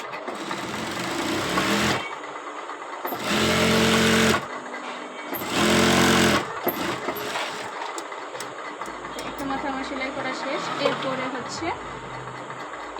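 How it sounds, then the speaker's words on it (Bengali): A sewing machine stitching a collar piece onto fabric whirs in two loud, steady bursts of a couple of seconds each, with someone talking quietly between and around them. "বসিয়ে সেলাই করে নিচ্ছি"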